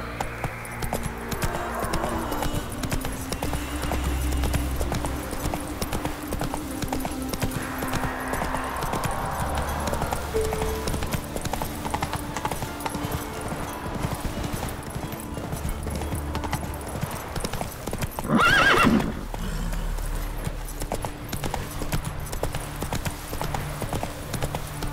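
A horse in The Witcher 3 gallops with steady rhythmic hoofbeats, loud and close throughout, and a whinny breaks through near the end.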